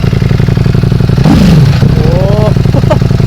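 A Ducati Panigale V4S motorcycle exhaust rumbles at a steady idle close to the microphone, then blips into a sharp rev that climbs and falls, followed by a couple of quick throttle stabs.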